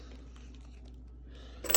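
A set of keys for an old-stock 1983 Jaguar ignition lock jangles in a brief metallic burst at the end, after quiet background hum.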